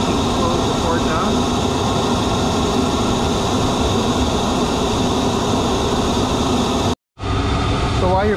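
An oil furnace burner and its fuel pump run just after start-up, a loud, steady broadband roar with a brief cutout near the end before it resumes.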